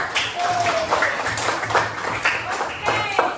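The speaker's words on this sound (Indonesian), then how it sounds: "Tepuk tangan dulu." Students in a classroom clap their hands in a short burst of rhythmic applause, with a teacher's voice speaking over and between the claps.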